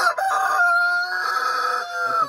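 A chicken crows on a farm, a single sustained rooster-like call close and clear, without talk.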